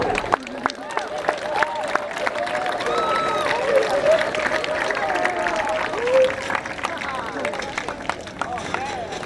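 Crowd at an outdoor Memorial Day ceremony cheering and clapping, a steady mix of claps, whoops and chatter running throughout with no speech on top.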